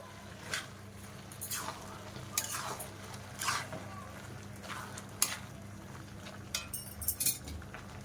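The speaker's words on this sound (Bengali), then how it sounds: "নেড়ে দেবো" Vegetables, dal and mangoes are stirred in a cooking pot for a Bengali Chaitra Sankranti dish, with repeated scraping strokes of a spoon against the pot over a steady low sizzle, close and moderately quiet.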